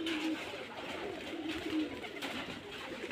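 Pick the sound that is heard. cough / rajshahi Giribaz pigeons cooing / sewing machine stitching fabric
rajshahi Giribaz pigeons cooing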